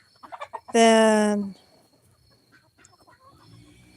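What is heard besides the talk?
chickens clucking, young roosters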